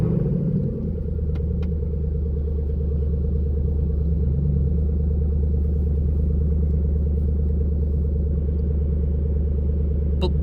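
A 2012 Shelby GT500's 5.4 liter supercharged V8 idles with a deep, steady exhaust rumble, loud and close, holding an even burble throughout with a couple of faint clicks early on.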